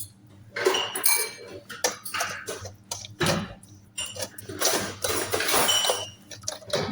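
Pandesal dough ingredients for malunggay cheese pandesal, including beaten eggs and butter, being mixed in a bowl, with repeated close metallic clinks and scraping of a utensil against the bowl in an irregular rhythm.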